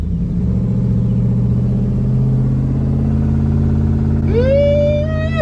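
An F150 pickup with a swapped-in Navigator engine rumbles at a steady, loud idle close by, then revs sharply upward near the end with a rising whine and no one speaking.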